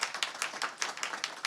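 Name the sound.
audience clapping for panelist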